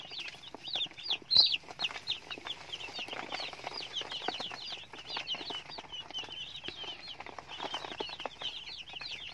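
A newly arrived batch of broiler chicks peeps continuously in high, rapid chirps, many birds overlapping at close range with occasional rustling and flapping.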